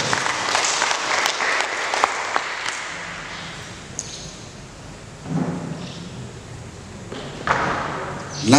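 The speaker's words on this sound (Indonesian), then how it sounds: "Kita tepuk tangan untuk beliau." Audience clapping at a village tourism technical training session in West Sumba, strong at first and then tapering off, with a few thumps and knocks from people moving about afterward.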